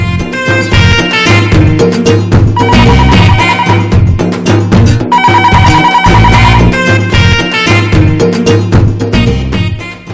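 A phone rings with a loud, melodic ringtone that repeats a bright tune steadily, with no pause, in a Telugu TV comedy scene. No voices.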